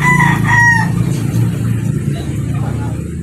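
A golden boy breed rooster crows once, loud and close, in a short burst at the start, then a low engine hum and yard noise carry on underneath.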